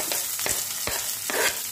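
Curry leaves dropped into hot oil with spluttered mustard seeds, a loud close hiss with a few sharp crackling bursts and stirring scrapes over about two seconds, no voices.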